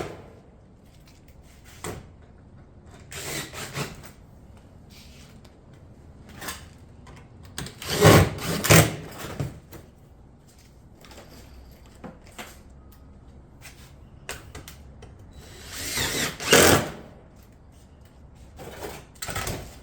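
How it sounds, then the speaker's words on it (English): Cottage shingle panels being fastened on a roof, heard as scattered sharp nailing knocks and clatters at irregular intervals, with a few louder bursts over a quiet background. "And start fastening those panels as normal."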